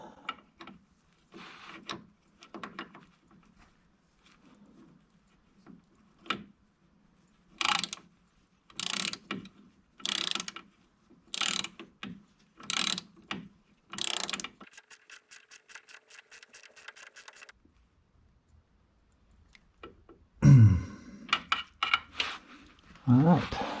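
Nut being screwed by hand onto the boom solenoid of a 1990 New Holland skid steer: a run of sharp, regular ratcheting clicks in short bursts, close up, with a buzzing mechanical stretch and clunks afterward.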